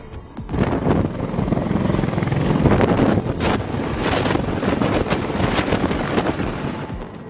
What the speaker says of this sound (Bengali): CH-53 হেলিকপ্টারের সাহায্যে এই হেলিকপ্টার অস্ত্রবাহী অনেক ভারী ট্যাঙ্ক নিয়ে অনেক দূর গন্তব্যস্থান পর্যন্ত সফলভাবে যেতে পেরেছিল।